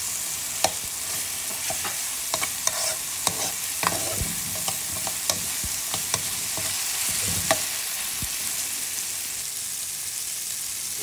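Tomatoes cooking in a pan, a continuous close sizzle punctuated by repeated sharp clicks and scrapes of a spoon stirring against the pan, with no talking.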